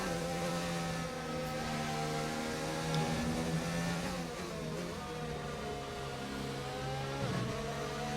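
Race cars in a Formula-style racing video game drone steadily, with layered engine whines rising and falling as several cars pass, continuous and fairly loud with no talking.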